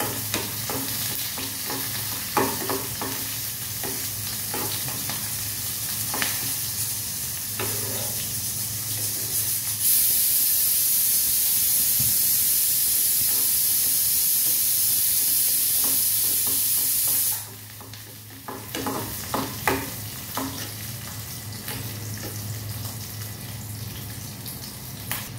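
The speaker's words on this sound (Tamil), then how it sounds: "இந்த வெங்காயத்தை நல்லா வந்து வதக்கி எடுத்துடலாம்" Onions sizzle in a hot pan with steady frying crackle, punctuated by scraping and stirring of a spatula, with a brief louder hissing stretch midway.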